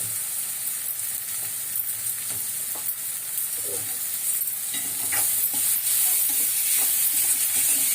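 Capsicum and onion sauté in a pan while prawn gravy is being cooked, giving a soft, steady sizzle with scattered stirring scrapes and clicks. The frying gets slightly louder toward the end.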